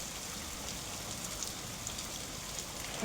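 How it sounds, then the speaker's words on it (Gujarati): Steady, light drizzle falls continuously in the Amreli district countryside, with a soft, even hiss and occasional faint drops pattering on a surface. "ક્યાંક સતત ધીમી ધારે ઝરમર વરસાદ ચાલુ છે"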